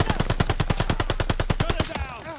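Machine gun fire in the Call of Duty: Vanguard campaign, a rapid, evenly spaced burst of about twenty loud close shots, then a short trailing echo as the firing stops.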